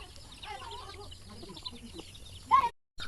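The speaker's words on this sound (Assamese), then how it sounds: "কুকুৰা চৰাই মাত শুনিছে নহয়" Chickens clucking and calling during heavy morning rain, faint scattered clucks under a low rain-like background, with one sharper call near the end before a brief cutout.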